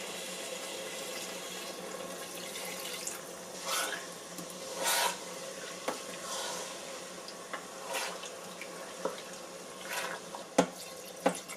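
Water pours into a slow cooker holding just over 3 pounds of lamb with garam masala, a soft continuous trickle with small splashes and clinks, fairly quiet and without talk.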